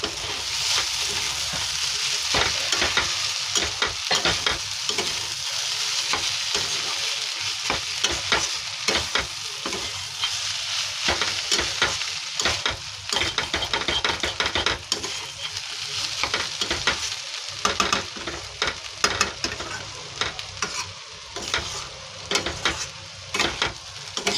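Chopped banana flower sizzles and fries in hot ghee in a pan while being stirred, a steady bright crackle with repeated scraping stirring strokes throughout, close and continuous with no talking.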